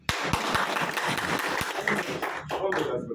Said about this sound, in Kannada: ಚಪ್ಪಾಳೆ ಜೋರಾಗಿರ್ಬೇಕು